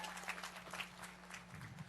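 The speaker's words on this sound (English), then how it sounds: "Please give a round of applause for yourselves one more time" A commencement crowd of college graduates and guests claps at a graduation ceremony, a faint, fairly even patter of many hands heard from a distance for about two seconds.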